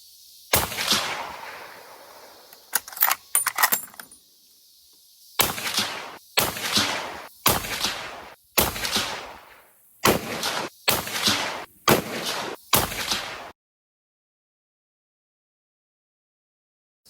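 About a dozen loud, sharp suppressed shots from a Ruger RPR in 6.5 Creedmoor fitted with a Dead Air Sandman suppressor, fired outdoors at a steady pace with a few quick doubles, then silence.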